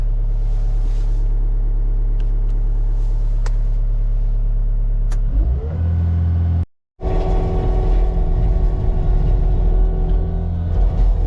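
A truck engine idles with a steady low rumble, then sputters and cuts out into a brief silence before loud engine noise resumes, near and continuous with no talking.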